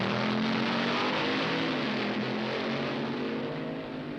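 A 1970 drag racing final run at the NHRA World Finals in Dallas, an injected funny car against a fuel dragster, heard as a loud sustained engine roar that holds steady and eases slightly at the end.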